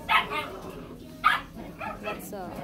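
A small Chihuahua mix dog gives a few high, yappy barks and whimpers close by, with people talking softly underneath.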